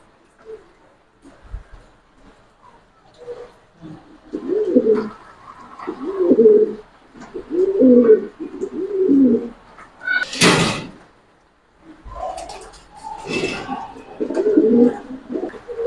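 Pigeons in a loft coo in repeated low throaty rolls, close and fairly loud, with a sharp bang or rattle partway through and other clatter around.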